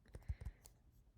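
A computer mouse being clicked, a few quick soft clicks close by, faint and brief against quiet room tone.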